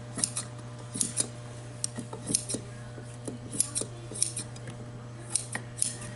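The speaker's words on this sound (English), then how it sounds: "Then on the bottom, just cut it even with that bottom edge." Scissors snip through upholstery fabric, trimming it along a bottom edge while reupholstering a chair's outside back; a steady series of sharp, close metallic cuts over a low steady hum, with no talking.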